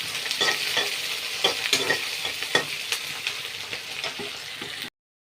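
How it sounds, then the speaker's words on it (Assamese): Sliced onions fry in hot oil in a pan while being stirred until browned for a chicken dish, giving a steady close sizzle broken by repeated scraping and stirring clicks. "পিঁয়াজ ভাজা হৈ গ'ল, এয়া ব্ৰাউন কালাৰ হৈছে চাওক পিঁয়াজটো"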